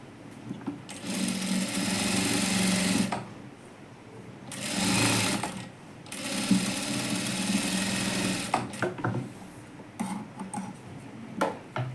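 A sewing machine topstitches the turned lining of a princess blouse with cups, running in several loud, steady bursts separated by short pauses.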